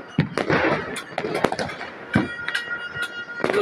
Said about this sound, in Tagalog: Grabe fireworks sa mga kapitbahay namin, oh.